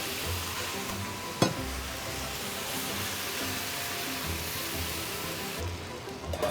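Soy sauce, sake, mirin and roasted sesame oil hitting a hot pan of yaki udon, giving a steady, fairly quiet hissing sizzle with one sharp clack partway through.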